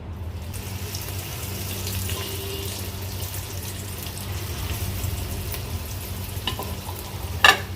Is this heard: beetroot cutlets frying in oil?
yes